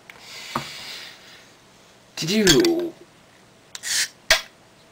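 A bottle of Sierra Nevada Stout, not a twist-off, is cracked open with a short metallic hiss and clink, followed by a few brief clinks and a sharp tap, all fairly close with no talking.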